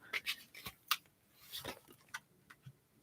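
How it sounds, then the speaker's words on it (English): A deck of tarot cards being shuffled at close range: a series of soft, crisp card snaps and rubs arriving in uneven bursts, quiet and intimate, with no talk. "I'm just going to give the cards"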